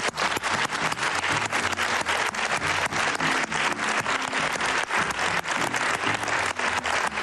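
A studio audience at a TV game show breaks into strong, sustained applause, dense and loud clapping that holds steady from start to finish with no talking.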